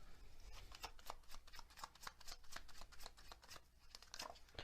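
Tarot and tea leaf cards being shuffled by hand, a steady run of soft, rapid riffling and flicking that carries on without pause and without speech.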